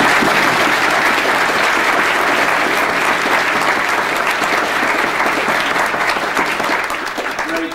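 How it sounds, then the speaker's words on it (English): Loud, sustained applause from a school assembly audience rolls on steadily for several seconds, tapering only slightly toward the end. "Let's give them a round of applause."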